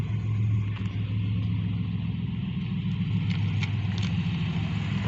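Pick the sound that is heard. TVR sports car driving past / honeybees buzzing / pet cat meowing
TVR sports car driving past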